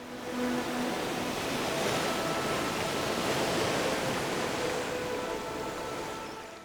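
Waterfall in a Philippine mountain forest pouring onto black rocks at its base, a steady, loud broadband roar of falling water and spray that never lets up.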